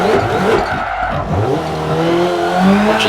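A Honda CRX Mugen revs loudly up close, its engine note climbing and falling while tires squeal and skid in a sustained, continuous roar with no talking.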